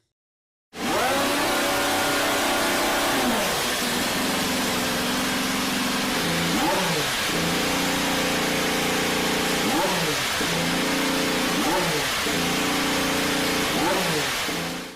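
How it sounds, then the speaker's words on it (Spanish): A Honda Formula 1 power unit for the Racing Bulls team fires up and runs loudly and continuously, its harsh high-pitched drone rising and falling in repeated revving sweeps over a steady idle, with no speech. "así suena el motor Honda para esta próxima temporada"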